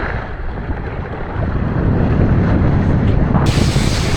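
Gusty wind while kitesurfing, a loud rough roar of wind buffeting the microphone that swells stronger partway through, mixed with faint water and boat noise and no voices.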